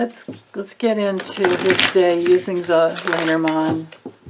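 Lenormand oracle cards, a Golden Dreams deck, shuffle in the hands as a soft, steady riffling rustle that runs beneath a woman's continuous speech.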